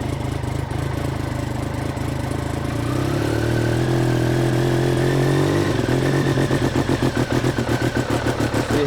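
Engine with faulty fuel injectors, steady at first, then revved so it surges and stumbles unevenly, ending in a rapid, pulsing, misfiring throb close by.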